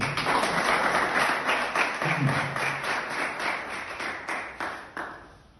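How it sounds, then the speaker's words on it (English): Crowd applause at a sport news event in Windhoek, a steady wash of clapping that holds for several seconds and thins toward the end. "I think that deserves a big hand of applause."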